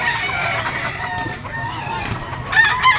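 Rooster at a crowded gamefowl market, a three-year-old white-legged Boston bloodline cock, crowing and clucking amid steady crowd noise, with a couple of sharper calls near the end.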